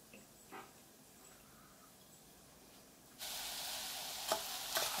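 Pearl couscous sauteing in a pan, a low quiet sizzle with occasional stirring scrapes that turns into a much louder, steady hiss partway through, with a few sharp clicks near the end.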